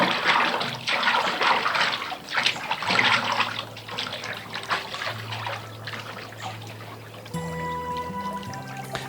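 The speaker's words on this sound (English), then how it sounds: "The water that bubbles up through the earth at Bath percolates down from the nearby Mendip Hills." Hot spring water bubbling and trickling up from the ground at Bath: a steady, close, fizzy wash of flowing water that continues throughout, with soft tonal music entering near the end.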